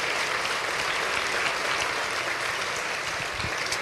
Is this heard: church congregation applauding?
yes